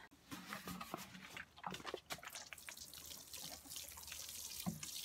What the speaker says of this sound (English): Okay, let's get them some water.